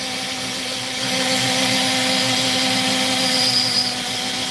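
Small Dremel rotary tool grinding into opal, a steady high whir with a faint hum beneath, running continuously close by and growing slightly louder after the first second, with no voices.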